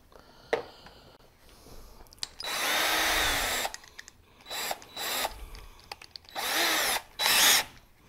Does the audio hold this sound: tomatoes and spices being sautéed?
no